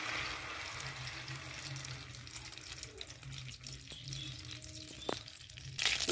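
Mustard oil poured over hot oil in a pan for chicken do pyaza, a soft continuous hiss and sizzle with faint clinks near the end, close and quiet, without speech.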